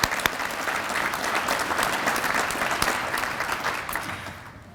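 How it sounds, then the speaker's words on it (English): An audience at a high school district address applauds, giving steady, dense clapping that fills the room and then tapers off toward the end. "Please join me in a round of applause for all they do."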